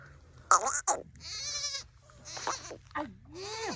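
Goats bleat loudly at close range, several wavering calls in quick succession over a low steady hum, with a person's voice mixed in among the cries at an evening goat pen.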